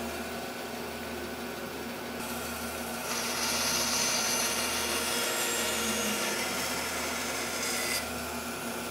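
A Rikon bandsaw fitted with a wood slicer blade runs through wood, a steady broadband whir that brightens and thickens as the cut engages, then eases off, close and moderately loud with no voices.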